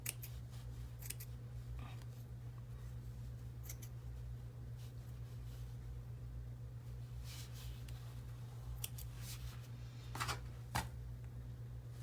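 Scissors cut fleece for a lighthouse felted painting, giving a run of soft, close snipping and crisp clicks in uneven bursts over a steady low hum, with the cuts clustering toward the end.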